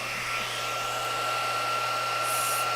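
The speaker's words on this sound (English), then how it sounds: "we're gonna heat up our heat tool" A heat embossing tool blowing hot air, a steady, close whooshing fan drone with a constant whine that runs unbroken throughout.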